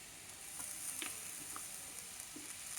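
Mutton frying in a hot pan gives a faint, steady sizzle with a few soft pops and crackles scattered through it, quiet and close with no talking.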